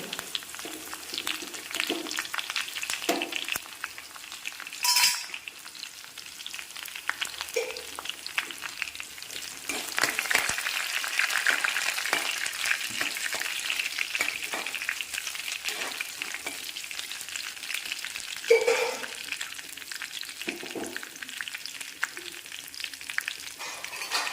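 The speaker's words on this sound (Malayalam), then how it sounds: "ചെറിയ ഉള്ളി കടുക് താളിക്കാനായിട്ട് ഇട്ട് കൊടുക്കുവാണ്" Shallots, mustard seeds, dried red chillies and curry leaves frying in hot oil as a tempering for a small-onion and lentil curry, a steady bright sizzle with occasional spatters and stirring scrapes, running close and continuous.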